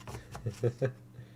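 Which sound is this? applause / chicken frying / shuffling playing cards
shuffling playing cards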